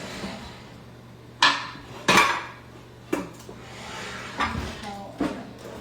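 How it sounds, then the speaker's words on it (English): A metal splatter screen is pulled out and handled in a home kitchen, giving several sharp clanks and rattles of metal against pots and pans, spaced irregularly and close by. "So I'm going to get my little splatter screen."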